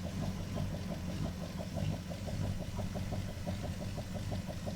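A car motor sits at idle with a rapid metallic lifter tick pulsing regularly over a steady low drone, close and constant throughout.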